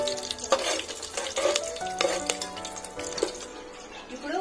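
Green chillies fry lightly in a pan while a spoon stirs and clinks against the metal, giving intermittent scraping and tapping over a soft sizzle, with faint household sounds in the background.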